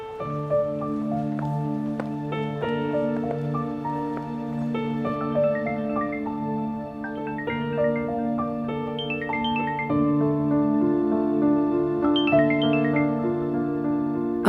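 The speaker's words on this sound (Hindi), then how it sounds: "फोन उठाओ ना, कोई जरूरी कॉल हो सकती है।" A melodic mobile phone ringtone plays on and on, loud and clear, repeating its bright tune for several cycles with no voices over it.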